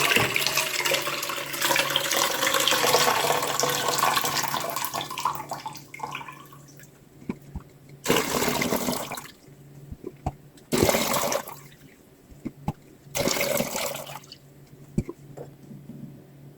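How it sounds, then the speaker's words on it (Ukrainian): Marinade poured off jars of pickled cucumbers into a container, several bursts of splashing liquid separated by short quiet gaps, with a steadier stream of pouring at the start. "Пройшло півгодини, зливаємо маринад."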